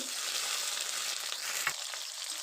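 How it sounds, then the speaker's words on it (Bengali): Cut potatoes frying in mustard oil with nigella seeds and a dried chilli, a close, bright, steady sizzle with one brief stirring knock near the end. "আলুগুলো দিয়ে ভালো করে ভেজে নেব"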